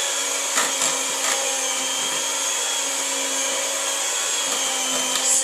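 An electric cake mixer beats Victoria sponge batter with a steady, continuous motor whine and a few faint clicks and knocks, heard alone without talking.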